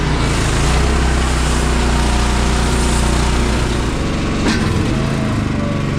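A KUHN Optiwrap OWR 6000 bale wrapper wrapping oatlage bales runs with a loud, steady engine drone close by, continuous and without talk.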